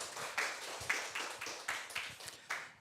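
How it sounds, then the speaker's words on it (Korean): Sparse, scattered clapping from a small forum audience welcoming a presenter at a Korean AI law research forum, a handful of separate claps spaced out over a few seconds, fairly quiet and without talk. "예, 힘찬 박수 부탁드립니다."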